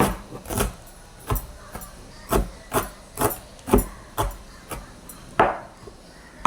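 A knife chops broccoli into small pieces on a board, about a dozen crisp, evenly spaced thuds close by with no talking.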